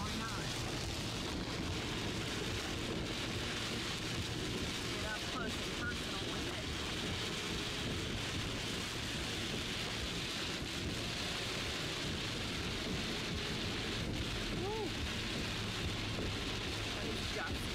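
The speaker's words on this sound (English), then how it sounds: "They got caught up in the storm again." Heavy rain pours down in a constant roar while thunder rumbles low and long through the storm.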